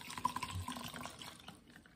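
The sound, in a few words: pouring rubbing alcohol into a measuring cup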